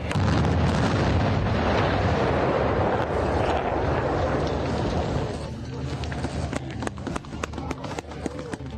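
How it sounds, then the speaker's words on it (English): Explosive demolition of a bridge during a British military training exercise in Estonia: a sustained heavy roaring blast and rumble, loud and continuous, then thinning into scattered crackles and debris noise with a voice over it. "In Estonia, the British are learning to blow up bridges."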